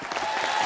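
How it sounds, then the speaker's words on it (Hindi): An audience at a village fair talent show applauds loudly for a dance group, a brief dense burst of crowd clapping with no talk over it. "एक बार जोरदार तालियां इस पूरे ग्रुप के लिए।"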